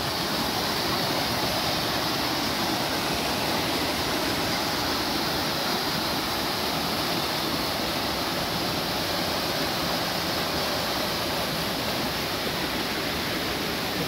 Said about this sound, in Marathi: आता रस्त्यात ओढा आलेला आहे, मस्त वरून कोसळत येत आहे पाणी.